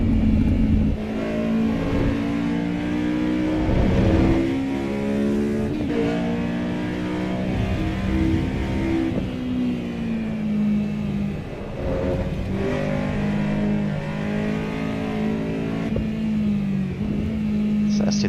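A Honda S2000 in the racing game Assetto Corsa Evo revs hard and continuously, its engine tone climbing and falling through gear changes across the run, loud and close with no talk over it.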